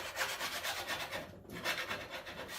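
A paint scraper dragged across a car's metal panel to strip old flaking iron phosphate coating, a close, rough rasping in rapid back-and-forth strokes with a brief gap midway.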